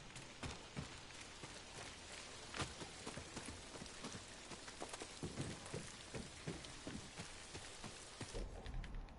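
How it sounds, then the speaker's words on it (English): Steady rain in the video game Ghost of Tsushima, a dense hiss of drops pattering on surfaces with scattered sharper splashes, continuous and fairly loud throughout, with no speech. "It is raining."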